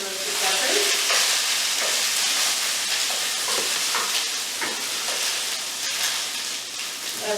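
Peppers hit a hot wok and fry for pepper steak, a loud, continuous sizzle close up with occasional scraping stirs, no talking.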